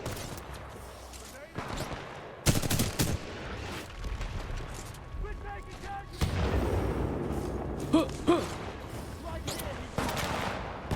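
Gunfire in a video game, bursts and volleys of shots with booms scattered over several seconds, mixed with game sounds and a voice talking over it.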